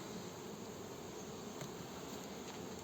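A steady, dense buzzing of many honeybees at a hive fills the clip, a continuous hum close by with no voices.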